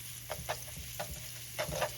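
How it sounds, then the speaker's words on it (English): Four freshly minced garlic cloves sizzle in olive oil in a skillet for homemade marinara, a steady close frying hiss with a few soft stirring scrapes, no talking. "this garlic's been sizzling for maybe 10 seconds already, 15 seconds"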